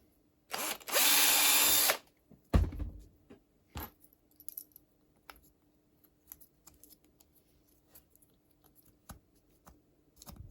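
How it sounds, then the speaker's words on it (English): A small 2mm drill loosens support material from a 3D-printed robot finger, giving one close, loud burst of whirring of about a second and a half, then faint clicks and scrapes of handling. "If necessary, you can use a 2mm drill"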